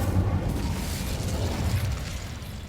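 An Incendio fire spell cast in Hogwarts Legacy, a steady, dense burst of roaring fire that fills the whole short stretch at a fairly loud, even level with no talking.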